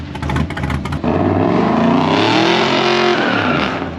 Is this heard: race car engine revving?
yes